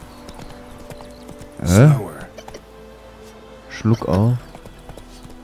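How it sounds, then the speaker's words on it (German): A horse's hooves clip-clop steadily as the rider travels on Roach in The Witcher 3: Wild Hunt. The even gait runs under two short bursts of someone talking. "Wir reiten durch die Gegend."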